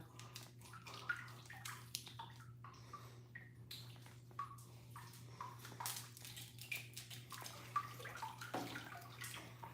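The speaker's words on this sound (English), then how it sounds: "I want everybody to wash their faces first, get nice and clean." Running water splashes as someone washes their face at a bathroom basin. The splashing comes in soft, irregular bursts over a steady low hum, faint and fairly close, with no talking.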